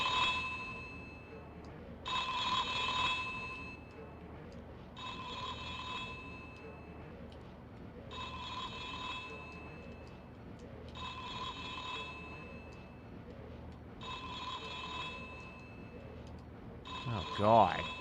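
An electronic telephone in a video game rings again and again, seven trilling bursts at a steady rhythm with short gaps between them, moderately loud over a low hum, ending in a brief clatter.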